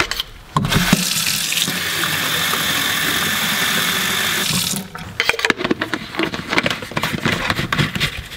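Water gushes steadily from a tap for a few seconds, then shuts off, leaving softer clinks and splashes nearby.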